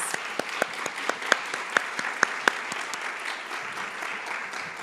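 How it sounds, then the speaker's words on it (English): Audience applauding sponsors at a women-in-business seminar, a steady wash of many hands clapping at moderate loudness, with a few sharper individual claps standing out near the front. "Can we give them a big round of applause"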